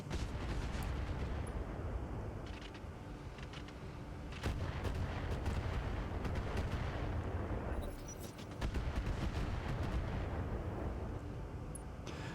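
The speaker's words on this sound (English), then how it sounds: "so I can fire the large laser, it's the thing that's most likely to hit anyway" A large laser fires in the BattleTech video game with the RogueTech mod, giving a rolling, rumbling blast layered with sharper cracks and booms. The sound is faint and continuous, with no talking.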